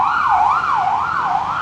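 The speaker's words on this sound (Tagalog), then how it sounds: "Malapit sa ospital eh. Kaya dahil ambulansya." Ambulance siren near a hospital, a loud close wail rising and falling in a smooth, regular cycle about every half second, with no voices over it.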